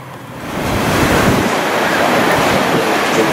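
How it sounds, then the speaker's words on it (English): Wind rising by the sea during a boat launch and sea trials, a loud, continuous roar of gusts and surf close to the microphone, with no voices. "Wind's starting to pick up now."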